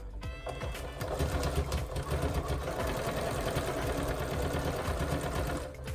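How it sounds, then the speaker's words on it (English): Sewing machine stitching back and forth on fabric for a snuggle tunnel, a steady close mechanical whir with a rapid needle clatter running continuously, with no talk. "I like to go like back and forth when you start just to make sure it's strong"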